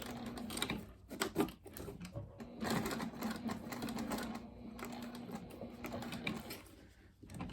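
A sewing machine with a size 18 needle, stitch length 4 and Tech 70 thread stitches back and forth over zipper teeth on a wristlet bag, giving rapid, uneven mechanical clatter in short bursts and longer runs, close and fairly quiet.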